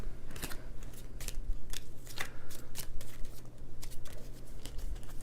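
Playing cards are shuffled close up during a session of the board game The Hunger, a series of quick riffling, snapping bursts over a low steady hum.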